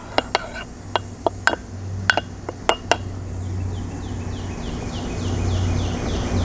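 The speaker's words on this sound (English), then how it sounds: "I'm gonna give a little squeeze of lime, and I'm going to just stir that in." A spoon clinks sharply against a pot several times while lime is stirred into plant-based sweet corn chowder, the metallic taps in an irregular run before fading into softer scraping and kitchen background.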